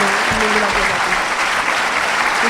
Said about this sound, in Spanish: les pido que me ayuden con una gran ovación a decirle gracias a María Dueñas